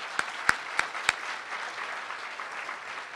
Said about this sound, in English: let's just take a moment and celebrate our MLK Commemorative Celebration Planning Committee with a round of applause